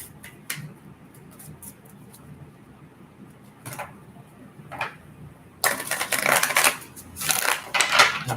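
Tarot cards being shuffled by hand, soft scattered riffles and taps at first, then a louder, denser burst of close shuffling rustle in the second half.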